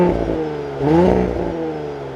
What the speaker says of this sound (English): But let's fire up this S5.